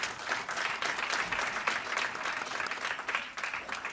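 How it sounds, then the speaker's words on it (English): A commencement ceremony audience applauds steadily, with many hands clapping in a dense, even wash that carries at moderate distance throughout. "Let's give them an amazing round of applause."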